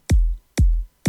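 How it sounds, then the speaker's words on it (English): Two dry, punchy kick drum hits, unprocessed in FL Studio 11, with a deep low thump and a clicky attack, the start of a third at the very end. "let's listen to the kick dry."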